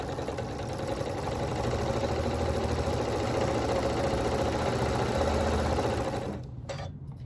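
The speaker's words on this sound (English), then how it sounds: "I'm gonna back stitch just to lock in that other stitch, and then I'm just gonna continue sewing" A sewing machine stitches a rag quilt bag in a fast, steady, close mechanical whir that runs for several seconds and then stops abruptly near the end.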